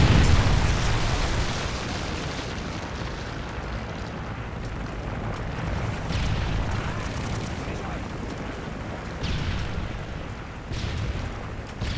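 A Predator missile blast in Modern Warfare 3 rumbles as a broad, sustained explosive roar with deep low-end weight, part of a loud, continuous combat din.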